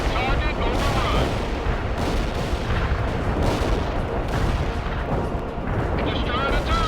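Artillery barrage in the World in Conflict video game, a continuous, heavy roar of booming shell fire and blasts that stays loud throughout, with radio-style voices talking over it.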